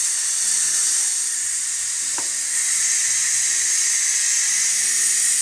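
Steam hisses steadily and loudly from the open vent of a Ninja Foodi pressure cooker releasing pressure, a continuous bright rush throughout with only faint low tones beneath it.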